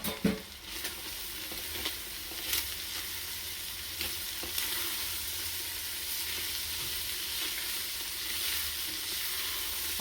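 Sliced carrot and red capsicum sizzling in a pan, with a few clacks of a utensil stirring early on, then a steady, close frying hiss that continues throughout.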